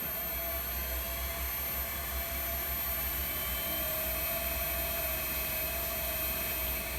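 A lathe spins at higher RPM while turning small boxes, giving a steady, high whine over a constant hum with no pauses or voices.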